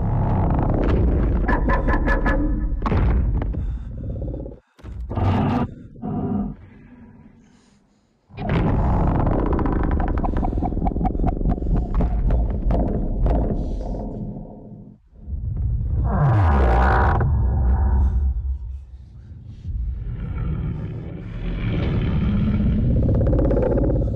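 Film sound design for a Godzilla train sequence carrying a bomb: heavy rumbles, booming impacts and whooshing blasts surge in long loud waves, broken by sudden near-silent gaps and sharp hits, all dense and cinematic.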